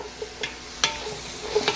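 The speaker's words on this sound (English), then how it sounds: "just these onions just hitting the pan. Give them a stir." Onions hit a hot pan for cream of mushroom soup and are stirred, giving a soft steady sizzle with a few close scraping clicks of the spoon.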